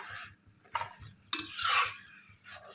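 Kochuri, a stuffed Bengali pea-filled puffed bread, shallow-frying in a little oil, with a soft sizzle and a few sharp spoon-and-pan scrapes as it is turned and puffs up.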